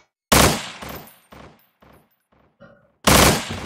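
Gunshots in the video game Estranged: Act I: two loud, sharp blasts about three seconds apart, each trailing off, with quieter echoing reports in between.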